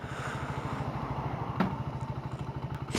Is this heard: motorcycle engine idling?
yes